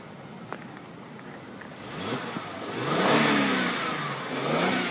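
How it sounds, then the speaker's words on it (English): A 2006 Mercedes-Benz E350 4MATIC's engine idles quietly, then revs up in a swelling roar that peaks and dips before rising again, heard close with no talk. "Let you hear the engine."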